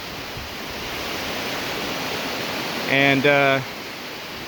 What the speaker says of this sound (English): down there you can see that Swamp Falls pouring over the edge